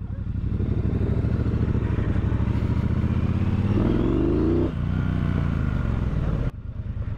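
Triumph Bobber motorcycle riding over dirt, dust and grime: a loud, steady engine drone close by, rising in a revving sweep midway, then dipping briefly near the end before resuming.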